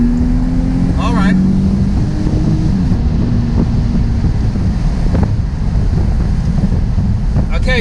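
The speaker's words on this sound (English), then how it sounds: "I apologize if it's windy, but I'm not going to do a convertible review with the roof on" Steady roaring wind buffets the microphone in a convertible 2009 Mercedes-Benz SLK 280 driving with the roof down, loud and continuous throughout, with road rumble underneath and a brief voice.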